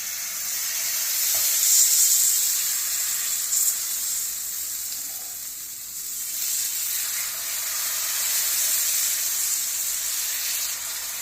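Vegetable dosa batter sizzles in ghee on a hot griddle, a close, continuous hissing fry that swells and eases slightly, with no voices over it.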